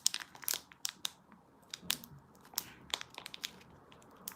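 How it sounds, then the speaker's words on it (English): Someone crinkles and crackles plastic packaging while trying to open it. The result is a quiet, irregular run of sharp crackles and rustles, close by, with no voices. "So many things now, you actually need scissors to open them."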